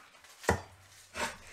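Two rough, rasping strokes of a hand plane sound as it chatters against the grain of a wood board, close and moderately loud with quiet gaps between.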